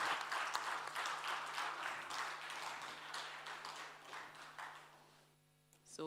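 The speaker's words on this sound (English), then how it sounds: "Let's clap for that." An audience claps for a finalist at a national banking and ethics challenge, several seconds of applause that fades out toward the end, with a steady low hum underneath.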